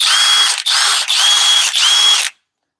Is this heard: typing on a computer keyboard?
no